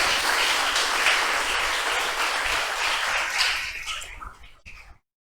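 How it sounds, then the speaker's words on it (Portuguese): A church congregation claps loudly and continuously in a dense, sustained wave that thins out and fades away to silence near the end. "Mais forte esse aplauso a Jesus."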